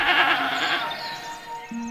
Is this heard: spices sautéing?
no